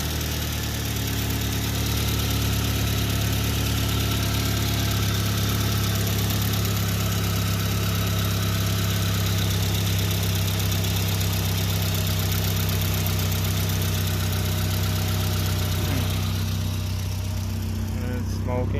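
A Saab car engine with a restored turbo idles steadily throughout, a continuous low mechanical drone with faint knocking, recorded close with some background noise and a brief change near the end.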